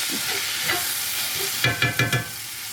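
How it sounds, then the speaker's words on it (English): Ground turkey fries in a pan with onions and peppers, giving a steady close sizzle broken by several quick stirring scrapes near the end, with no talk. "you wanna keep cooking that meat until you cook the pink out of it"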